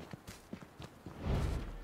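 Footsteps in the video game H1Z1, a series of soft, evenly spaced steps at moderate distance, followed by a louder rustling burst near the end.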